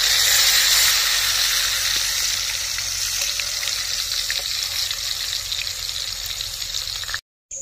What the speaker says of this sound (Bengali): এবার আমি বড়াগুলো ভেজে নিচ্ছি।